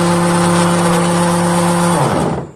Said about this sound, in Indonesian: ini pencucinya bunyinya geruduk-geruduk